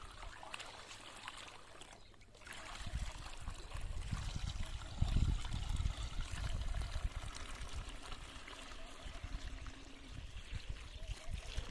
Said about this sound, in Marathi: आता हे वरती पाणी ओतल्यानंतर हे खात सगळं विरघळून खाली जातं